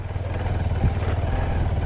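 Motorcycle climbing an uphill road, a steady low engine drone with rough mid-range clatter running continuously and fairly loud throughout, no talk over it.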